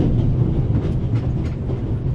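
Steady low rumble and rhythmic rolling of a train running along its tracks in the video game The Raven Remastered, continuous and fairly loud throughout with no talking.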